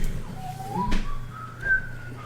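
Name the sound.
whistling under one's breath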